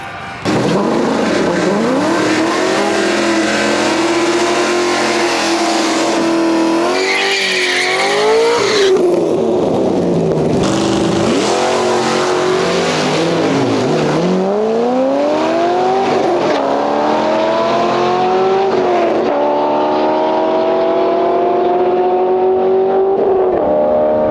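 A car accelerating hard on a run with the clutch slipping, loud close engine roar climbing in pitch, dipping briefly between surges, then rising again with sustained revving and a faint tire squeal.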